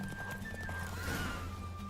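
Horse hooves clip-clop at a quick gallop in The Witcher 3: Wild Hunt during a horse race, with a steady rhythmic pounding under game ambience and a faint whinny.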